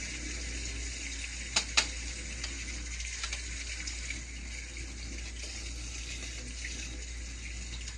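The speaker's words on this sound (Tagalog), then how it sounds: "tinatakpan ko lang yung gripo" Steady running water from a faucet while rinsing a window-type air conditioner filter, a constant broadband hiss with a couple of brief clicks or taps near the start.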